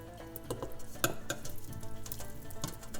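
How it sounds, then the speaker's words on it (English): Beef steak pieces going back into a simmering Sudanese beef stew in a pot, bubbling sizzle broken by rhythmic stirring and light clinks of a utensil against the pot, close up with no speech. "go ahead and add our steak back in"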